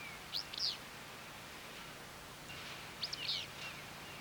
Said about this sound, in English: The Fitzpew call is very distinct to the southwestern willow flycatcher